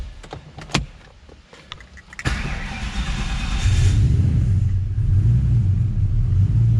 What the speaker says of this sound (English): It's not a bad cold start on E85, is it?